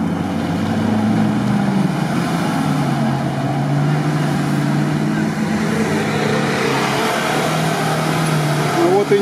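An off-road car driving over rough tank-track terrain, its engine droning and rising under bumpy motion, heard up close with people talking over it throughout.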